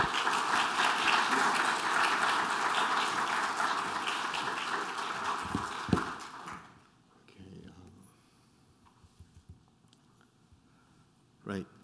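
An audience at a lecture at the Canadian Center for Architecture claps for about six seconds, steady and full. It then fades into quiet room noise with a few scattered sounds.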